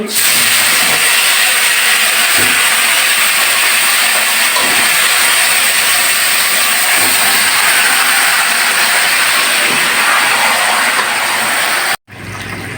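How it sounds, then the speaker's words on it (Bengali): Marinated chicken, seasoned with turmeric and salt, frying in a pan with a few whole cloves: a loud, steady sizzling hiss that runs almost unbroken and cuts out briefly near the end. "আর দিয়ে দিচ্ছি কয়েকটা গোটা লবঙ্গ ফুটবে না দিলে পরে আর তারপরে এই যে ম্যারিনেট করা চিকেনগুলো দিয়ে দিচ্ছি"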